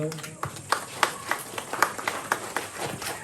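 Scattered, uneven hand claps from a crowd at a Ramadan community gathering in Tambunan, each clap sharp and distinct, with talking continuing underneath.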